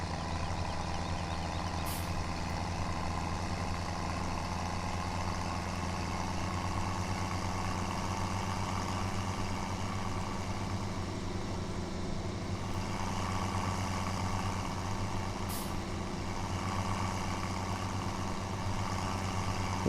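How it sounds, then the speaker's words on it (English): A tractor engine drones steadily in Farming Simulator 17, a low, even hum with constant mechanical whine, with a couple of faint beeps along the way and no voices. "Let me grab this tractor."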